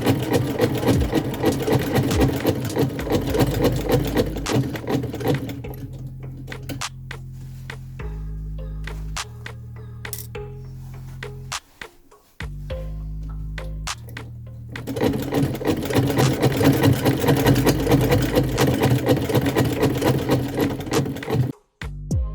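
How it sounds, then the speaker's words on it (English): Sewing machine stitching a modern Victorian-style skirt just inside a thread mark, running in steady bursts with brief pauses and a slower, lighter stretch in the middle, loud and close with no talking. "I'm going to stitch just inside"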